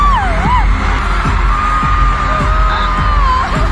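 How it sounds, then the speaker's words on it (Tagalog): A concert crowd screams and shrieks loudly as the show begins, with high wavering yells over a dense roar and rhythmic booming bass thumps underneath. "todo hiyaw kami dyan, todo tili"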